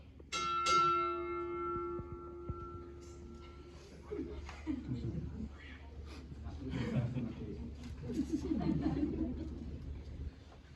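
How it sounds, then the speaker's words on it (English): A ship's bell struck twice in quick succession at a US Navy retirement ceremony, two bright ringing tones that decay slowly, followed by murmuring from a crowd. "Strike 2 bells."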